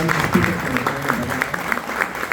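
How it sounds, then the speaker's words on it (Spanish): A crowd at a PM Beers meetup in Lima claps for a speaker, giving a short burst of even, close applause from many hands. "por favor, un voto de aplausos para él"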